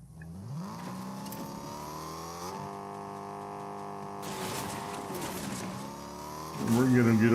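Car in Fortnite driving along with a sustained engine drone that rises and falls in pitch as it revs, getting louder and rougher near the end, with a person talking over it.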